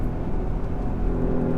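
A 2019 Porsche Macan S engine held at high revs in third gear, heard as a steady, loud, dense drone from inside the cabin with no audible rise or break, and no talking.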